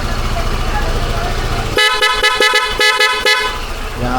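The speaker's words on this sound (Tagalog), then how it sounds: "Dual horn." Loud dual car horn honking in repeated short toots, newly installed on a car alongside driving lights, starting partway in over a steady engine idle and ending with a final blast.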